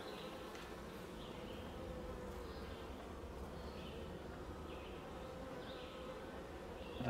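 Honey bees swarming around an open hive full of capped honey, a continuous close droning buzz with individual bees whining past now and then.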